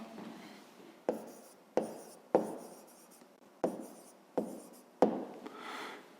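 Pen strokes scratch across paper while a math answer is written by hand, about six short scribbling bursts with brief pauses between them, close and fairly quiet with no talking.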